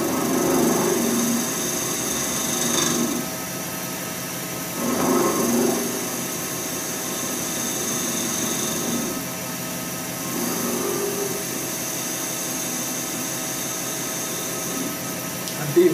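Clear epoxy resin turns on a lathe under a carbide tool for a shaving brush handle: a steady motor hum with repeated short, gritty cutting bursts every few seconds, and no talking.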